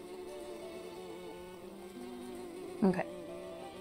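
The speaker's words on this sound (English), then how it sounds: "I'm going to move the bees right there." Bees buzzing in the video game Everdream Valley, a steady close insect drone that holds throughout, with a brief louder burst near the end and no voices.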